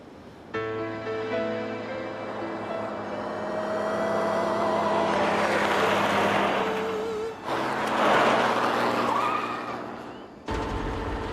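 A car drives along on an island road, engine tone rising and holding steady with bursts of tire noise and a brief squeal, loud and close, no talking, cutting off abruptly near the end.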